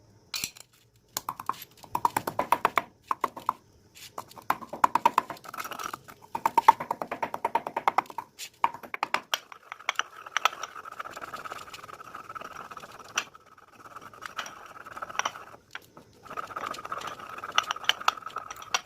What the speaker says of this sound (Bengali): এবারে এই মেথিগুলিকে ভালো করে গুঁড়ো করে নেব।